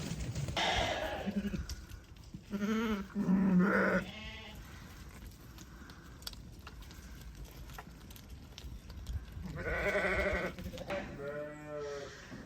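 A flock of sheep being looked over for fly strike bleats in several bursts, some near and loud, others fainter, with quieter rustling and shuffling between the calls.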